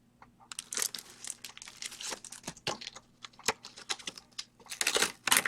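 A Fiskars Frond Flourishes paper punch working through paper, giving close, crisp crinkling and crunching bursts with sharp clicks in an uneven run, growing louder toward the end.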